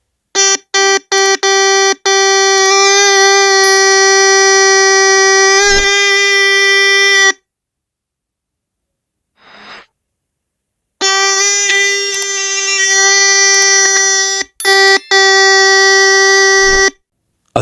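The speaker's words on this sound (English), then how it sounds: "That old radio speaker has now transformed into a loud beeping device that sounds surprisingly similar to a car horn." A loud, harsh electronic beeping tone, horn-like, from an old radio speaker converted into a beeper, with a few short bursts and then long sustained blasts, broken by a pause of silence.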